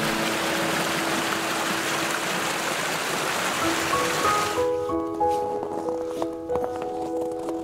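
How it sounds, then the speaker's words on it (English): A small creek flows beside a winter hiking trail to Troll Falls at around minus 12 degrees Celsius, its steady, close water rush filling the first half before dropping away to a quieter background. "We pass a little creek."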